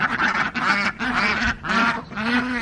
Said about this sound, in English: The ducks don't want to be left out.